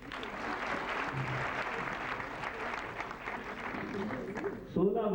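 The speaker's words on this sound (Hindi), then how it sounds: "अगर आप तालियां बजा दें तो।" An audience at an awards ceremony honouring the team of the Mahabharat TV serial applauds steadily throughout as a broad, dense patter of clapping, with a voice breaking in near the end.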